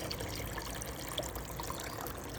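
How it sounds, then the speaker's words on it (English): A small garden water feature trickling steadily among spring plants, a soft continuous babble with occasional light drips, fairly quiet and close, no voices. "water feature."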